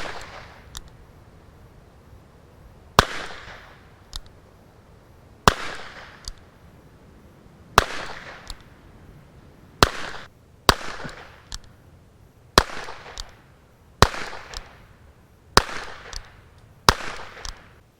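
A Hopkins & Allen Bulldog revolver, more than 100 years old, fires about eight loud, sharp shots outdoors, spaced roughly two to three seconds apart, each with a short ringing tail and a few smaller pops between them.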